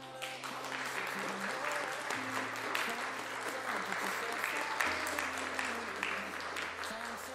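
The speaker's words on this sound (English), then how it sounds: "Clap." Clapping sound effect fired from a Voicemod soundboard through an Elgato Stream Deck, a steady dense burst of applause lasting several seconds over sustained low electronic tones.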